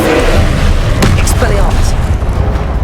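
Incendio fire spell cast in Hogwarts Legacy, a loud booming magical burst with a sharp crack about midway, over dense game noise and rumble, with a voice calling out.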